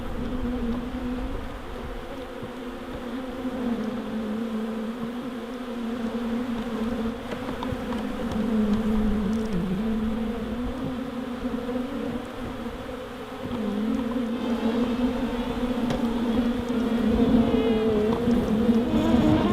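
A swarm of honeybees from a hive kept in an old fridge buzzes loudly and continuously, a dense, droning hum of many wings close around, rising and falling slightly in intensity throughout.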